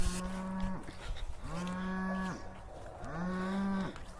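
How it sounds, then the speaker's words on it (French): A farm cow in a small backyard enclosure moos three times in long, drawn-out calls, hungry and calling toward people from a short distance, with no talking over it. "Il y a notre vache qui nous appelle, qui vient de là-bas."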